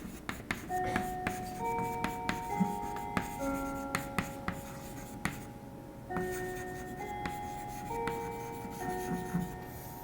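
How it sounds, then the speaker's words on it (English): Chalk or marker writing on a board during a lecture on linear system solvers, with repeated short taps and scratchy strokes in an irregular rhythm, close and moderately loud, no talking. "So let's write down that briefly."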